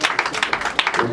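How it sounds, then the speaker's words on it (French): A church congregation claps in praise of the Lord during a Sunday prayer service, a brisk run of quick, close hand claps over about a second. "On acclame le Seigneur."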